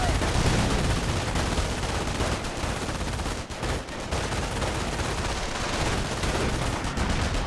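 Sustained machine gun fire from a Company of Heroes battle rattles on loudly and continuously, dense bursts with brief dips, amid battlefield noise.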